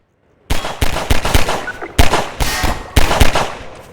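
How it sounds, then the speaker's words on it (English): Mounted turret in Half-Life 2 firing bursts of gunfire at breakable crates, loud and close, with repeated sharp shots in clusters after a brief silence. "The turret firing at the breakable crates behind teaches players not to take the threat head-on"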